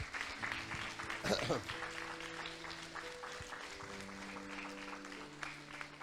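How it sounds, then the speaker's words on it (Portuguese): A church congregation applauding, the clapping mixed with talk and sustained background tones, fading into a room-like hum. "Vamos dar uma salva de palmas a eles também."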